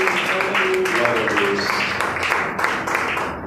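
A church congregation applauds during an evening Lord's Supper service, a steady wash of many hands clapping at once that blends with voices and room echo.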